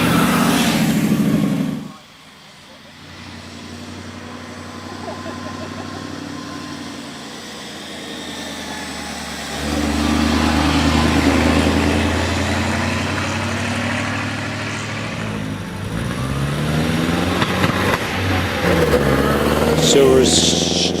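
A vintage Vauxhall 30-98 racing car sits on the start line at the Prescott Hill Climb, its engine idling in a steady mid-pitched drone that swells as revs rise, with a commentator talking over it.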